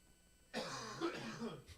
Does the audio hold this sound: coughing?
yes